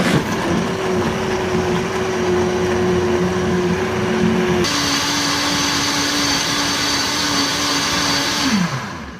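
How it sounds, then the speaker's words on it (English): A Vitamix blender grinds whole spices on a smoothie cycle, a loud, steady motor roar with rattling grit that shifts pitch partway through and then winds down at the end. "I just run 1 smoothie cycle on my Vitamix"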